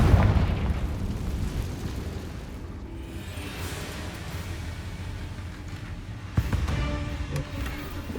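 Confringo blasting spell from the Hogwarts Legacy video game, a heavy booming explosion at the start that rumbles and fades, followed by a second sharper burst later on.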